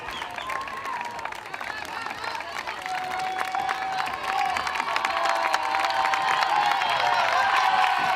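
Home crowd at a T100 triathlon finish in Spain cheering and applauding, a broad roar that swells louder toward the end, with a commentator talking over it.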